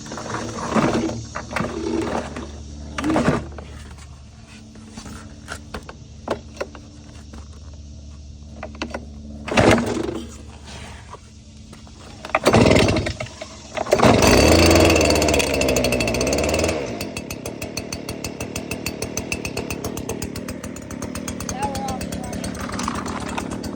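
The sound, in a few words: Stihl backpack leaf blower engine being pull-started and running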